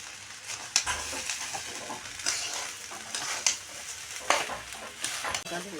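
Rice for basanti pulao frying in a pan, with steady sizzling under repeated scraping stirs of a spoon against the pan, close and fairly quiet, and no talking.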